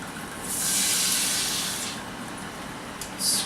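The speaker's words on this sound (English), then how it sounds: "Now, I'm going to deglaze the pan with red wine." Red wine poured into a hot pan to deglaze browned beef bits gives a loud, steady sizzling hiss that swells and then eases off, alone with no talk.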